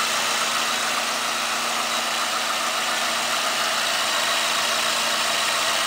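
A 2010 Ford Ranger with a 16-valve four-cylinder engine idles steadily just after a cold start, giving an even, close, continuous hum with a hissing whine on top and no voices.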